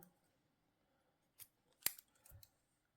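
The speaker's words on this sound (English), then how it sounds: "cut your yarn" Scissors snip once through crochet yarn while fastening off a small crocheted bow, a short sharp close cut amid quiet handling, followed by faint rustling.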